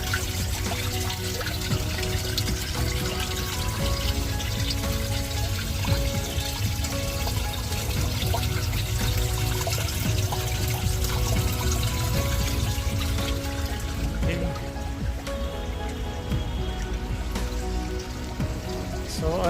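Water streams continuously from a leaking orange pipe hidden among rocks in Manila Bay, a steady, dense gushing and trickling that stays loud and constant throughout, with no talking.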